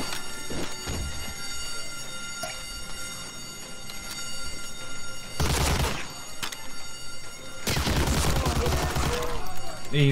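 A grenade goes off in the World War II shooter Medal of Honor Allied Assault, two loud broadband blasts standing out over a steady background of game noise and scattered distant shots.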